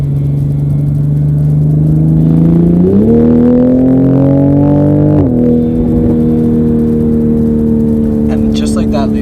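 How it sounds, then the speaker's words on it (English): Engine of a Toyota Supra revving under hard braking, its loud steady drone climbing in pitch as the driver blips through an aggressive downshift, then settling back to a lower hum near the end. "This is that aggressive downshift."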